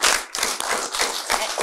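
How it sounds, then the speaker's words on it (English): A small group claps in a quick, steady round of applause, close by and fairly loud. "let's do a round of applause for that"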